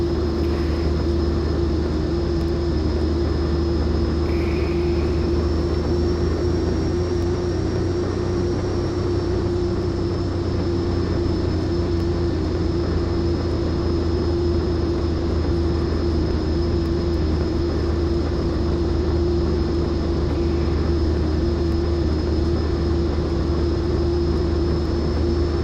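A Pilatus PC-12 turboprop engine in the X-Plane 11 flight simulator drones loudly and steadily throughout, a constant hum with a faint high whine over it and no voices.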